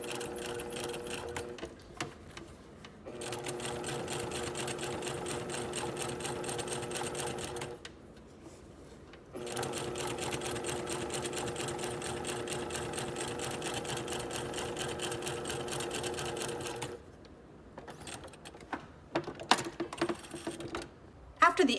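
A sewing machine edge stitching along a garment neckline, running in long steady bursts with brief pauses between, close and clear, with talk in the background.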